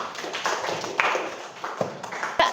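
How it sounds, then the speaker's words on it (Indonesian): Hand clapping in a classroom-style session, a loose scattering of individual claps and taps of uneven rhythm, fairly close and moderately loud. "Tepuk tangan."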